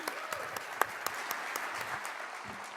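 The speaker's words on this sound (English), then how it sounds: "Please, one big applause." Steady audience applause welcoming a speaker to the opening ceremony of a youth leadership summit, dense clapping with a few louder claps standing out, no talking over it.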